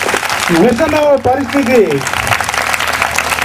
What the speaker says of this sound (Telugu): చప్పట్లు కట్టి కొట్టాల.